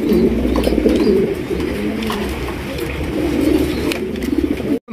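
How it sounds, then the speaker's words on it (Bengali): A pair of coloured Rajgola pigeons coo steadily, close by, their low rolling calls running almost without a break over a busy background hum before a brief sudden cut near the end. "এখানে রয়েছে চমৎকার একজোড়া কালারিং রাজগোলা কবুতর"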